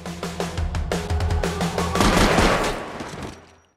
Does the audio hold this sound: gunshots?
yes